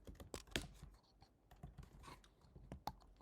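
Keystrokes on a computer keyboard while code is typed for a Django web development project, a few quick soft clicks in a quiet room with a brief burst of taps, close and faint.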